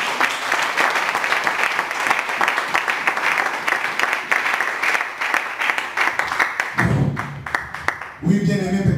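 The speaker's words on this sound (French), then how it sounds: "I feel that you have given applause to Pastor Marc-Boucher." A church congregation applauds loudly and continuously, dense clapping filling the room, before it fades and a voice begins speaking near the end.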